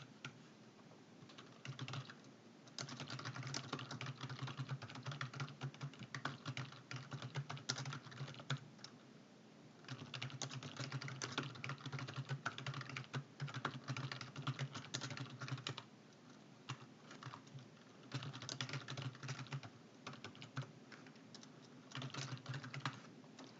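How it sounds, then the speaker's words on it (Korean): Continuous typing on a computer keyboard while entering data into an Excel spreadsheet, with steady rapid key clicks in bursts separated by short pauses, close and fairly quiet, with no talking. "이제 내용 입력해 줄게요."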